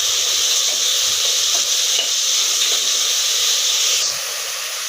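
Vegetables for a vegetable biryani sizzling and frying in a pan, a steady loud hiss close up with faint stirring scrapes beneath it and no voices.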